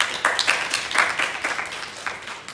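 An audience claps for a speaker at a demonstration meeting: a short burst of fairly loud, dense applause that holds steady for a couple of seconds without fading.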